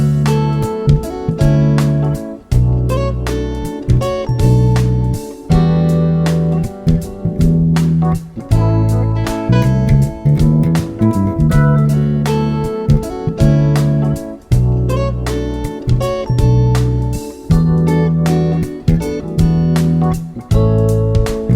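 An electric guitar plays a busy melodic fill over a full backing track with drums and bass, loud and continuous, notes climbing through runs.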